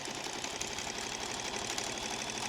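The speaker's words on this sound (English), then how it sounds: "So I can now go to the sewing machine and get this one stitched on." A sewing machine stitches fabric for camper van blinds with a rapid, even mechanical chatter that runs steadily at low volume.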